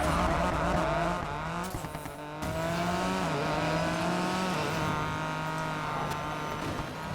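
A Honda NSX races in Need for Speed Payback, its engine holding a loud, steady, high-revving whine with a couple of quick gear-shift dips near the start, then pulling hard again, with faint tire noise underneath.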